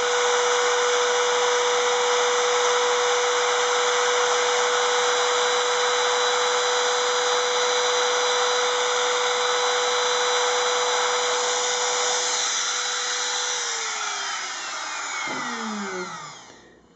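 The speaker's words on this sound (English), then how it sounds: "this spiral down cut bit in my Makita laminate trimmer." A Makita laminate trimmer with a spiral down-cut bit routes wood for a Les Paul guitar build, giving off a loud, sustained high-pitched whine that holds steady and then winds down in the final seconds.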